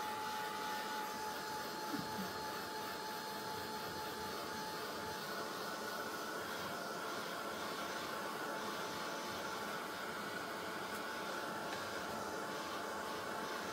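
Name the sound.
heat tool drying a collage page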